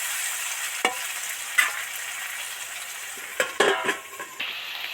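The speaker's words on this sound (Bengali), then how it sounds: "এবার পেঁয়াজ কুচি আর টমেটো কুচিটা দিয়ে দিলাম এবার নেড়ে চেড়ে আরও দু মিনিটের জন্য একটু ঢাকা দিয়ে দেবো" Chopped onion and tomato fry in a pan with a steady sizzle while a utensil stirs and scrapes in a few sharp knocks and clatters, loudest near the end.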